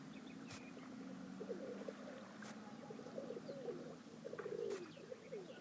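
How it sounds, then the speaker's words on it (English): Soft cooing of doves with occasional chirps in the video game Nancy Drew: Danger by Design, steady and fairly faint over a low ambient background, no voices. "that's not pleasant sound of birds"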